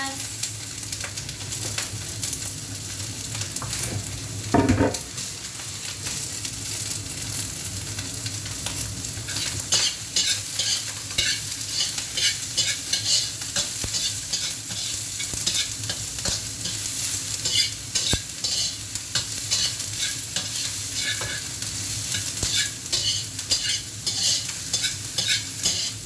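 Garlic and onion sizzle steadily in hot oil for fried rice, a loud continuous crackle with occasional stirring scrapes and a brief clatter near the start.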